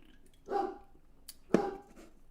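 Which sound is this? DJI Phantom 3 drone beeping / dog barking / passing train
dog barking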